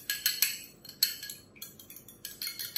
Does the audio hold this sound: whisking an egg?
yes